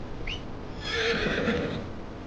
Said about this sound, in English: Can call our horse though.